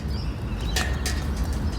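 Birds calling outdoors, with a few short, bright chirps standing out over a steady rumbling background, no talking.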